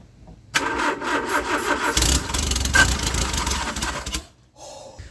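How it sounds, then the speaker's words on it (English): A turbocharged Nissan Micra engine fired on brake cleaner in place of fuel cranks and catches, running roughly and loudly for a couple of seconds with a mechanical clatter before it cuts out abruptly. "that right there was the first time that the engine technically started in over 14 months."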